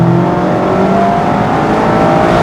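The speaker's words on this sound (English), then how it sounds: "You can hear the updated exhaust note they have for the ND3." A 2024 Mazda MX-5 RF ND3 with its updated exhaust note accelerates hard at full throttle, a loud, steady engine drone rising in pitch as revs climb toward the 7,000 RPM redline, heard close up.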